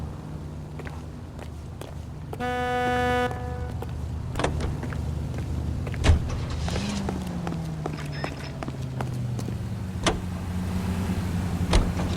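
Car driving in the video game L.A. Noire, a steady engine drone with a rising tone around the middle, a brief electronic chime early on and scattered clicks and thumps throughout.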